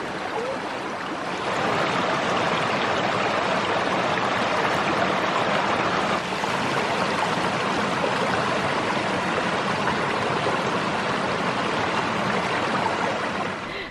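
A woodland creek in Cornwall flows steadily, producing a broad, constant rush of water that stays even and fairly loud throughout, with no voices over it.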